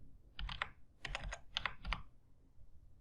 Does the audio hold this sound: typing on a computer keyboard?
yes